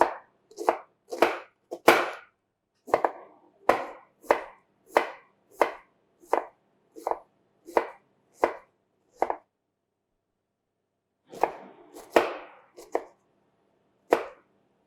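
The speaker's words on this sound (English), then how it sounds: "onions, and chop them finely." A knife chops onions finely on a cutting board in crisp, close, rhythmic strokes, about a dozen evenly spaced cuts, a short pause, then a few quicker chops.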